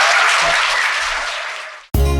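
Audience applause for a book announcement at a talk show recording, a dense, loud burst of clapping that fades over about two seconds before cutting off abruptly.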